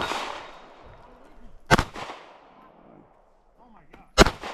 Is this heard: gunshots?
yes